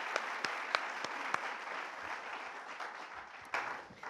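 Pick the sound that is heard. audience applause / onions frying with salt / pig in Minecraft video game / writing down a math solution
audience applause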